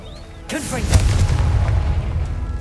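A fire spell explodes in Hogwarts Legacy with a sudden loud boom, followed by a rumbling, crackling blast that lingers for a couple of seconds, close and heavy.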